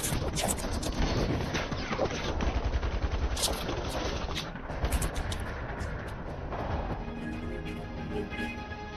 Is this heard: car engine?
no